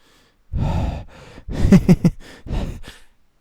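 A voice imitates heavy breathing, a run of loud close-up breathy gasps and exhales in an uneven rhythm with no words.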